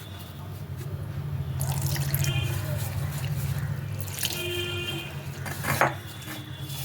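A little water is added to a bowl of cornflour and semolina batter, giving soft drips and a trickle along with light clinks of utensils against the bowl.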